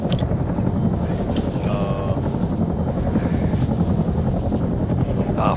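Helicopter passing overhead outdoors, a loud, continuous rotor and engine roar that holds steady for the whole stretch with no clear speech over it.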